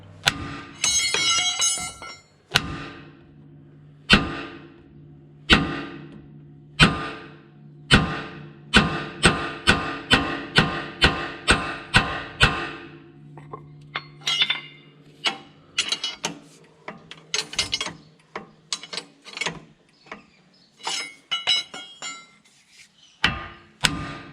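Sharp metallic hammer blows strike a ball joint on a 79 Series Toyota Land Cruiser, coming in spaced single whacks and quick bursts of several, each ringing briefly, close and loud with quiet gaps between.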